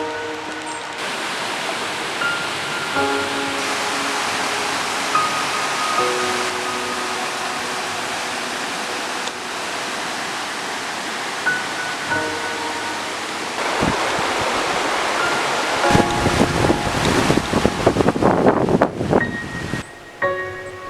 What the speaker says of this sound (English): Basically walking up this waterfall. It's dripping down all the sides of this cavern are dripping.